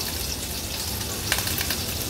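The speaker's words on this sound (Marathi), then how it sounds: "आता फोडणीला आपण ह्या लसणाच्या पाकळ्या ऍड करूया। लसूण थोडासा तेलावरनं असा परतून घ्यायचा।" Garlic cloves sizzle steadily in hot oil for a tempering, a dense continuous fry with a few sharper crackles and spatters in the second half; no one speaks.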